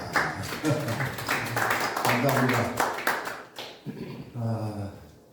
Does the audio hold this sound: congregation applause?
yes